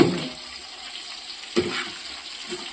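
Chicken fries in a pan with onions, a broad steady sizzle close up with a couple of brief stirring clatters and no talk.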